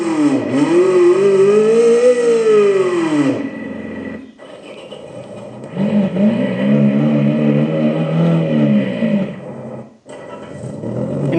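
Speaker on a Heybike Villain electric moto playing a simulated engine sound, with a synthetic motor rising and falling through throttle-like revs in two long passes with a brief break between, loud and close with no talking.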